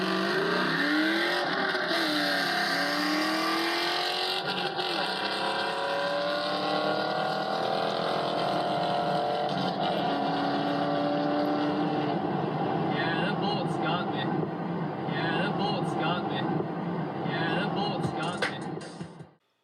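Drag race between a 2000 Trans Am WS6 with LS1 V8, intake and exhaust, and a 4.6L modular Mustang with exhaust and gears: roaring engines accelerate hard through rising gears, loud and close, then fade and cut off at the end.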